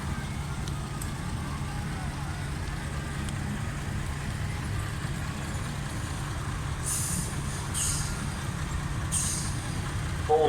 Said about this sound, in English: Mac, just gone by, 1965 model, FAW 5256, a rare integral sleeper from Indiana